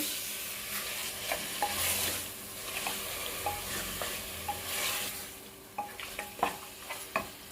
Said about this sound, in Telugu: ఇప్పుడు ఈ మటన్ ముక్కల్ని దీంట్లో యాడ్ చేస్తున్నాను. మటన్ వేసి కలుపుకోవాలి.